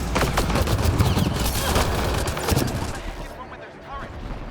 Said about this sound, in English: What's wrong with those turrets? Why are they shooting?